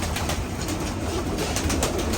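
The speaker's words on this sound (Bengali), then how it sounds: "কবুতরগুলো পানি খেতে আসছে" Pigeons gathering to drink water inside a loft, with soft low cooing and faint wing and shuffling noises over a steady background hum, close by and continuous.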